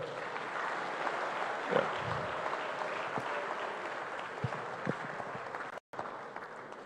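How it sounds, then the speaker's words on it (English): An audience at the AGRF 2023 African food systems forum applauds the Deputy Prime Minister, a soft, distant patter of clapping with a few sharper claps standing out. "Another round of applause for the Deputy Prime Minister."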